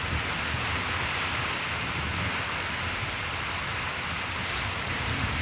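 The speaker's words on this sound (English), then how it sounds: "I'm so glad we're getting the rain." Steady rain falls during a storm, a dense, continuous hiss of drops hitting surfaces that stays loud and even from start to finish, with no voices.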